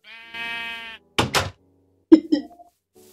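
Sheep bleating in a Minecraft-style video game: two harmonic bleats in a row, followed by a shorter pair of bleat-like calls, each clear and close, with quiet gaps between.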